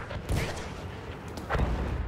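Gunfire in a Battlefield 1 multiplayer operation, with two heavy bursts of shots: one near the start and another more prominent one past the middle, both fairly quiet and distant-sounding.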